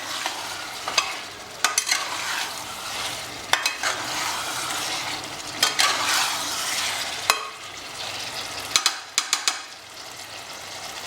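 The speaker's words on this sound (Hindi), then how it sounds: "अब चिकन और मसाले को एक बार बढ़िया भून लेंगे।" Chicken and spices being stir-fried in a pan over a high flame for biryani, with a continuous loud sizzle and repeated sharp scraping strokes of a spoon at an irregular rhythm, and no talking.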